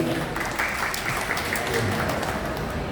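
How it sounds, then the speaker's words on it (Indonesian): Audience applause for two aikikenjutsu performers at a shopping mall event, a steady spread of crowd clapping over a low, busy indoor hum, with faint chatter underneath. "tepuk tangan buat berdua"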